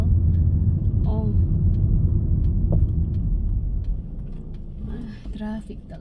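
Steady low rumble of car traffic on a road, with passing engines droning continuously and a few faint horn-like tones near the end; voices are faintly audible amid the noise.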